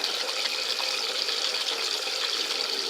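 Water splashing steadily as a stained cloth is rinsed and scrubbed by hand in a sink, a continuous close wash of liquid with no pauses and no voices.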